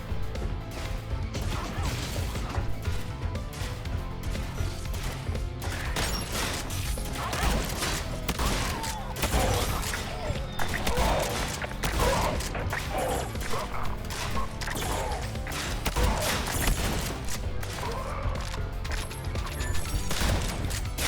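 Turrets and cannons fire in the video game Sentry, a dense, loud, unbroken barrage of blasts, impacts and mechanical clatter running throughout.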